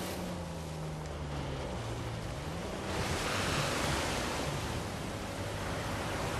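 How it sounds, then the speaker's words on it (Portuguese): A waterfall in the Uncharted 4 video game, near a secret cave behind the cascade in Madagascar: a continuous broad rushing of water, steady and fairly full, with a low droning undertone. "Uma gruta secreta atrás de uma cascata."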